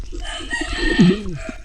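A rooster crows once, a short rising-and-falling call heard close by over a steady background.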